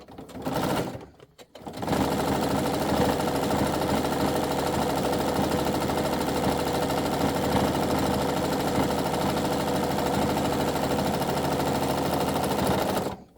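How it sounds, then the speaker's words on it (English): A sewing machine stitches a felt cat toy, running loud and steady for about eleven seconds after a brief start-stop, as a line is resewn with backstitching. "flip it over and sew on that line again"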